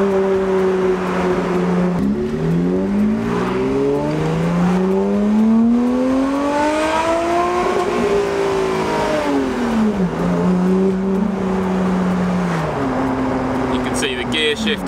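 Lotus sports car fitted with an AiM dash logger, its engine revving up and down through gears with rising and falling whines, loud and close from inside the cabin, with a voice talking over it.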